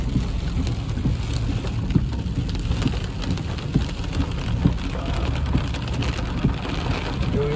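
Heavy, torrential rain in Big Bear Valley, California, drumming steadily on a surface as a dense, continuous hiss with scattered louder drops, recorded up close and without talking.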